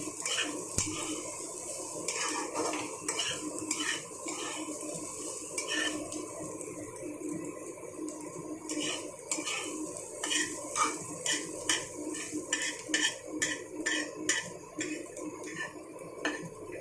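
Fried potatoes are scraped and pushed around a wok (kadai) with a metal spatula, giving a steady run of close, rhythmic scrapes and clinks over a soft background sizzle.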